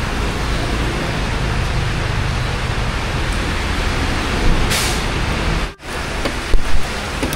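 Steady, dense hiss of heavy rain fills the whole stretch, loud and unbroken, with a brief dip and a couple of small knocks near the end.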